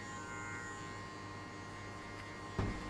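An electric hair clipper runs steadily through a burst fade at a barbershop, a close, continuous buzzing hum with a brief bump near the end.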